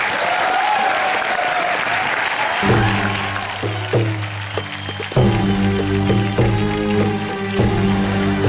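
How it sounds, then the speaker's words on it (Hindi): An audience on a comedy TV show applauds to welcome Naseem and Pooja, loud dense clapping at first, then music with sharp stabs comes in over the continuing applause. "जोरदार तालियों के साथ स्वागत कीजिए नसीम और पूजा का।"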